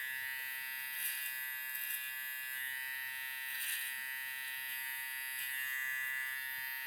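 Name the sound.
electric hair trimmer running during haircut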